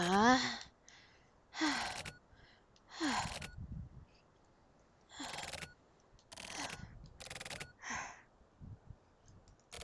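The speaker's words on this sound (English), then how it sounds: "lots of panting" Video game character panting in a series of breathy, gasping exhalations, some voiced, coming in separate bursts with short quiet gaps between them.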